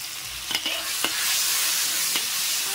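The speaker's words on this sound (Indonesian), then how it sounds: "Aduk sampai betul-betul wangi" Ingredients stir-fried in hot oil for a Sarawak-style dish, a continuous loud sizzle with a few sharp spatula scrapes and knocks against the pan, no voices.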